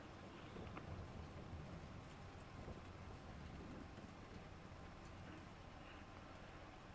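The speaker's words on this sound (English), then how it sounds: "It's going to be raining till noon." Rain falls in the Farming Simulator video game as a steady, even wash of hiss and patter, with a faint windy rumble underneath and no voices.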